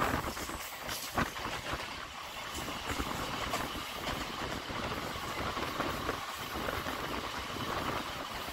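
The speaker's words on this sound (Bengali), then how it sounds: "উপরের দুটো ব্রিজ দিয়ে দুটো ট্রেন ফুল স্পিডে দৌড়চ্ছে" A Howrah–Haldia galloping local train runs at full speed across a bridge over the Damodar river, a continuous close rumble and rattle with small surges and no pauses throughout.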